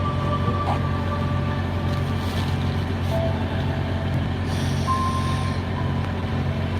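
A truck running with its engine idling, heard from inside the cab as a steady low rumble, continuous and unchanging, with faint higher tones drifting in and out.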